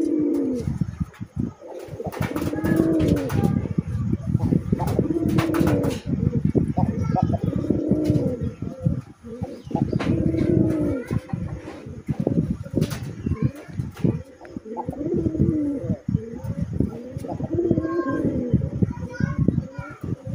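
A male Raj Golla pigeon coos repeatedly in deep, rhythmic bursts close by, with children's voices and chatter running underneath.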